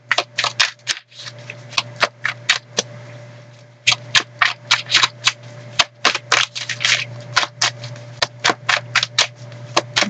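Tarot cards are shuffled close up in rapid bursts of crisp riffling clicks, broken by short pauses and a low steady hum underneath.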